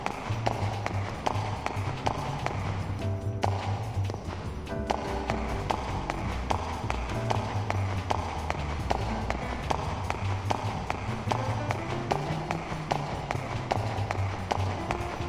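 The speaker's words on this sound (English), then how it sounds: "These are great footstep sounds." Continuous rapid footsteps of a running character in the video game Xenosaga Episode III, a steady quick tapping over a constant background of game music and ambience.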